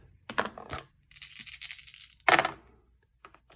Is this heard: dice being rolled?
yes